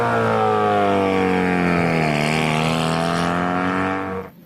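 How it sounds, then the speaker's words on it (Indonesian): Loud, close race car engine sound played for a toy race car, a sustained revving whine that rises in pitch and slides down slightly before cutting off near the end. "Yang ini mobil balap."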